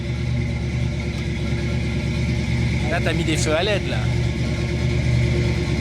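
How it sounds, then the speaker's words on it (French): A Ford Mustang V8 idles with a steady, deep, rumbling drone that runs the whole time, while people talk close by over the engine. "Ça, c'est du son moteur."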